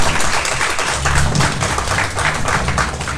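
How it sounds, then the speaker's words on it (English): An audience at a carnival presentation evening claps in a brief burst of applause, a dense patter of many hands close by with no voices over it. "let's give her a nice round of applause"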